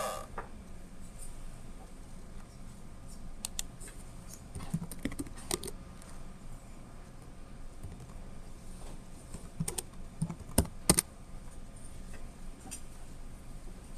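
Computer keyboard typing as messages are entered in an online virtual classroom, a steady patter of light clicks with a few louder key taps, close and alone without talk.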